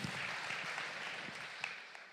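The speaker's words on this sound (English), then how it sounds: "Give him a welcome applause, the last guest for today." Audience applause welcomes the final guest at a conference hall presentation during a festival, a steady wash of clapping from a seated crowd, fairly distant and even throughout.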